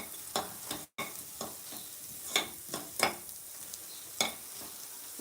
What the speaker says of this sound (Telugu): ఎందుకంటే మసాలా ఫ్రై అయిందండి, ఆనియన్స్ మంచిగా ఫ్రై అయింది.